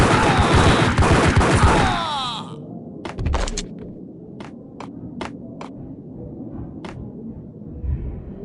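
Gunfire in the Max Payne Mobile video game, a loud dense burst of rapid shots for the first two seconds, then a string of sharp separate shots echoing over a low rumbling background.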